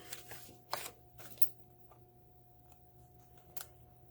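Scissors snipping through card along the card's edge in several quick, crisp cuts spaced irregularly, close and fairly quiet over a low steady hum.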